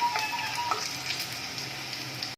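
Chicken pieces fry in hot oil in a pan for hot garlic chicken, giving a soft, even, close sizzle with a few faint clinks over a couple of seconds.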